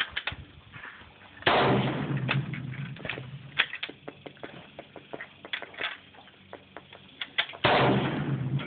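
A WWII Japanese bolt-action rifle fired outdoors: two loud sharp shots about six seconds apart, each with a rolling echo, with softer clicks and knocks between them.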